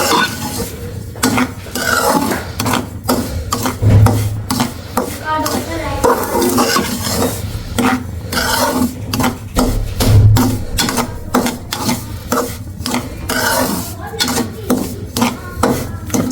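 Semolina roasting in desi ghee while being stirred in a pan, with a steady run of scraping and clinking spoon strokes against the metal, close and fairly loud throughout.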